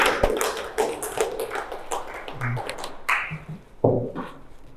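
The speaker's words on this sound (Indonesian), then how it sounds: "Tepuk tangan." Scattered clapping from a small class after a presentation, a series of sharp, uneven taps and claps rather than sustained applause, fairly close.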